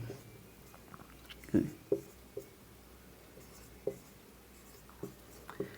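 A pen or chalk taps and scratches in scattered short strokes while someone writes out a Class 10 real-numbers maths problem, faint and sparse, with a quiet voice talking in places.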